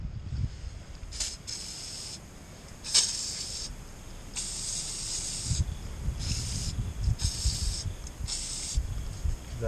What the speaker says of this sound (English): I think I'll get some spray release oil and give it a squirt.